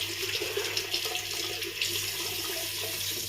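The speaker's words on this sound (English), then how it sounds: "Rinse." Tap water runs steadily from a faucet for rinsing, a close, continuous splashing stream with no voices.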